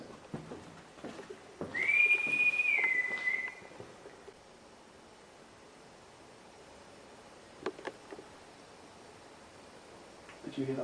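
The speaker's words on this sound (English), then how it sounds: "Can you whistle for us? I'm going to whistle first." A person whistles a single sustained, slightly rising note for about two seconds while calling out to a spirit inside Tatton Old Hall, then the room falls quiet apart from faint taps and rustles.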